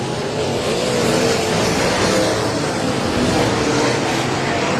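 Sprint race cars on the Heart O' Texas Speedway track roar steadily past in a dense, continuous engine drone, loud and near, with pitch swelling and fading as cars come by side by side.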